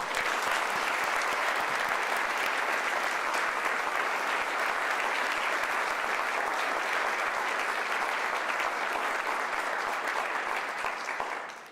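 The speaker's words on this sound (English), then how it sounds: "Please, another round of applause." Sustained applause from a large audience at a formal State Department award ceremony, dense and even for about eleven seconds before trailing off at the end, with no speech over it.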